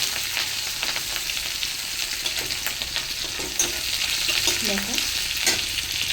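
Green chilies and whole spices fry in hot oil in a pan, a steady bright sizzle throughout with occasional stirring scrapes and pops, close by, with a brief spoken word.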